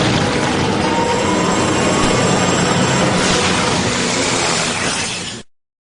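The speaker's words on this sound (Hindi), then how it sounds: "मैं जल्दी से जल्दी हेलीकॉप्टर भेजता हूँ।" A cartoon helicopter flies past as a loud, steady rotor and engine roar that stays level and fills the clip, then cuts off abruptly near the end.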